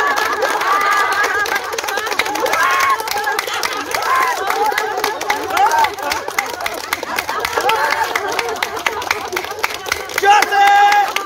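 A laughter therapy group at a naturopathy and Ayurveda centre claps together amid a dense crowd of laughter and chatter, with steady rhythmic hand claps running through the whole stretch.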